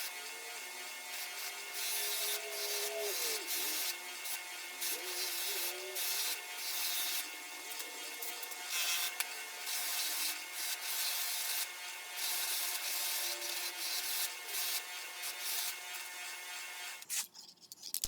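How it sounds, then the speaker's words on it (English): A polishing wheel loaded with Eastwood Tripoli compound whirs and rubs against the ends of Ford script wrenches, a steady abrasive hiss with shifting pitch and brief pauses, ending in a sharp cutoff. "I'm using a polishing wheel and Eastwood Tripoli to continue polishing the ends of the wrenches."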